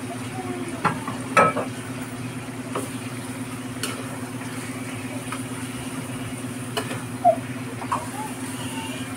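Chicken neck adobo sizzling in a pan with patis and soy sauce being added, a steady low frying hiss with a constant hum beneath and occasional clinks and stirring taps.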